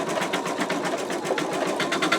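An embroidery machine stitches out an in-the-hoop wallet design, a steady rapid needle chatter with rhythmic pulsing, close and continuous throughout with no talking.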